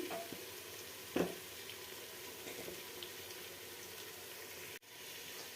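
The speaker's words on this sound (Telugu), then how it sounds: "మసాలా బాగా ఎర్రగా వేగిందండి." Masala with garlic paste, mint and coriander powder fries in a pan for vegetable biryani, making a steady, soft sizzle close by, with one brief clatter early on and no talking.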